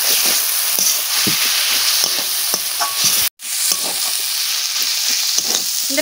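Shredded cabbage frying in a pan with radish and potato, a dense close sizzle running throughout with light scraping stirs, briefly cut to silence near the middle before the frying resumes, no talking.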